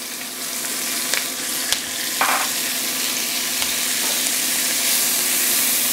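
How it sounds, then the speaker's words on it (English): Onions sizzle and fry in a big pot as they caramelize, a dense continuous hiss with a few light clinks of stirring, close and steady throughout. "And I'm just gonna get my onions a little caramelized."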